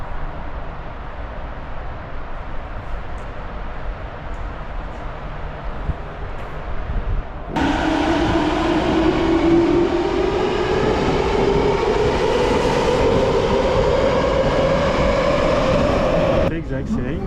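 A Tokyo Metro Ginza Line subway train, the oldest line in the network, rumbles loudly through a tunnel, with a rising tone swelling as it gathers speed and then cutting off near the end.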